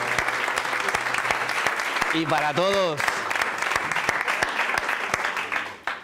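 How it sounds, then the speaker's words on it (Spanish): Audience applause at a sales talk, dense sustained clapping filling several seconds, with a person's voice briefly over it before it fades. "Un aplausote para todas"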